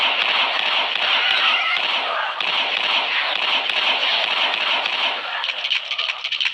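Rapid gunfire from a zombie shooting video game, a dense, loud and continuous crackle of shots lasting several seconds before thinning slightly at the end.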